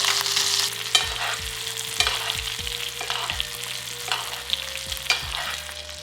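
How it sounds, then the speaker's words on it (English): A steak sizzles steadily in a hot pan, a continuous close crackle broken by regular dull thuds and scrapes about once a second, with no voices. "Flip the steak back over."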